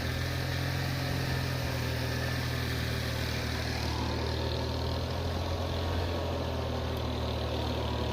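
A Mitsubishi tractor engine runs steadily at idle in a farm field before ploughing, a close, continuous low drone that stays constant throughout with no talk over it.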